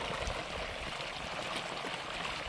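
Water from a solar-powered farm borewell with a 3-inch motor pours out in a steady, loud, continuous rush, heard close with no talk.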